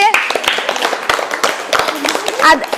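A group of schoolchildren at a Kerala lower primary school claps in scattered, uneven bursts over a few seconds, mixed with voices and chatter.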